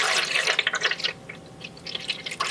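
Water poured into the reservoir of a glass-cutting saw table, a steady splashing trickle with dripping and bubbling, close by, varying in strength as the fill continues.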